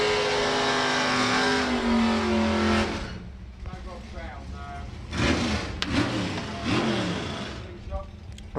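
Drag racing cars Ragged Wedge and the Fright roar loudly for about three seconds at a drag strip, then fade into a lower rumble as a commentator talks over the engine noise.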